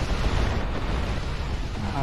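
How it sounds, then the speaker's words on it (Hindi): Explosion in the video game GTA Vice City, heard as a dense rumbling low-end roar that sustains for about two seconds with a broad noisy wash, fairly loud and with no talk over it. "क्या धमाका।"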